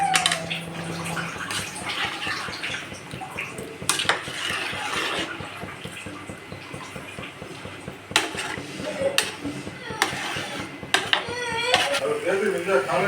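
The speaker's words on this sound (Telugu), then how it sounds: "తగినంత వాటర్ వేసుకొని బాగా కలుపుకోవాలండి." Water is poured into a pan of chicken kurma and stirred in, with steady watery sloshing and clinks of a spoon against the pot that are close and fairly loud throughout.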